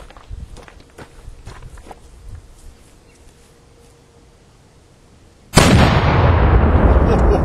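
A black powder cannon loaded with 8 ounces of FG powder fires a canister chain shot round at 25 yards, one sudden deafening blast midway that stays loud and broadband to the end, after quieter outdoor shuffling and faint voices.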